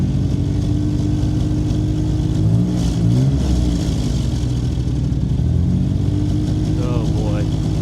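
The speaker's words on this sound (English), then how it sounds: "Let's see if I rev it up a little bit." A 1991 Mercury Cougar engine, a cheap auction car, revs up from idle with a steady mid-range growl that swells and falls, close and loud, while someone speaks over it.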